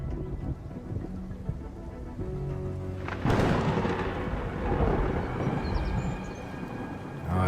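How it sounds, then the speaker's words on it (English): Deep, steady thunder rumble with a hiss like rain underneath, swelling into a louder, sharper crash partway through and then rolling on at a high level. "For a second, I thought that thunder was coming from outside."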